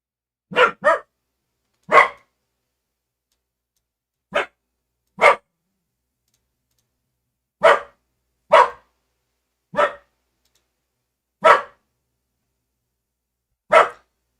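A dog barks in single sharp bursts and quick doubles, spaced irregularly over several seconds, loud and close, with silence between.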